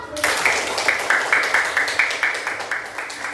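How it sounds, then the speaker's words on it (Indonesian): A classroom of primary school children claps together in steady, fairly even applause that carries on for about three seconds without talk over it. "Kasih tepuk tangannya dong."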